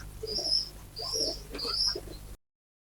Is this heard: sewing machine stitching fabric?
no